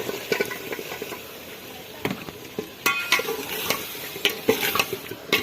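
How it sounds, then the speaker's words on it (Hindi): Potatoes are stirred into a spicy curry in a pan, giving irregular scraping and clattering spoon strokes over a soft sizzle, fairly close and uneven in rhythm. "ये देखें जी आलू जो है वो मिक्स हो रहे हैं।"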